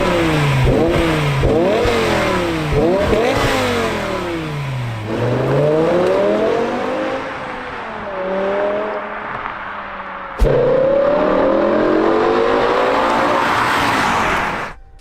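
A 2006 BMW M5 E60 with its V10 engine revving hard, close and loud: a series of quick rising and falling revs, then longer sweeps, with a sharp blip near the end before it settles.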